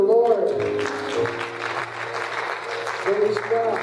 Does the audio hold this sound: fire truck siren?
no